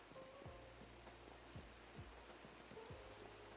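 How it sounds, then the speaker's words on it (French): Faint rain patters steadily in the Minecraft video game, a soft even hiss with sparse droplet ticks and a low tone humming underneath, no speech. "Il pleut dans ta maison, il pleut!"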